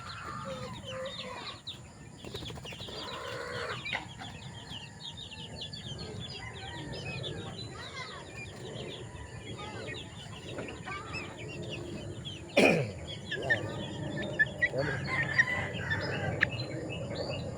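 Young chicks on an outdoor range peep and chirp continuously at low volume, with scattered clucks. One sharp louder chirp stands out partway through.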